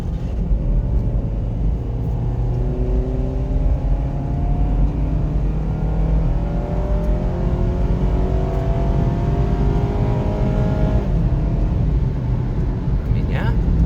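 A 2009 Honda CR-V engine runs steadily while driving, a loud continuous low rumble with rising and falling harmonic tones as it revs, close up and unbroken throughout.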